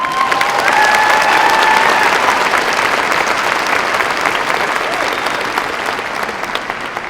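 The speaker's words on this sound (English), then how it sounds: "Another round of applause for that." A high school graduation audience claps loudly in a sustained, dense wave that slowly thins over several seconds, with a faint whistle near the start.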